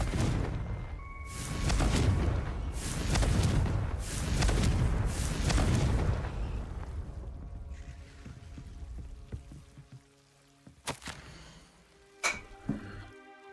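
Booming fire-spell blasts cast with Confringo in Hogwarts Legacy, several heavy rolling explosions in the first half, then quieter crackles and a couple of sharp hits over a hushed background.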